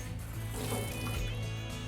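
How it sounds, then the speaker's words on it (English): Water running from a tap over a knife blade being rinsed clean after soapy washing, a steady close trickle and splash with no talk. "go ahead and give it a rinse"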